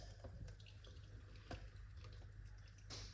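Beetroot and apple juice is poured through a strainer, a faint trickling and dripping of liquid with a few small splashes, quiet and close against low background hum.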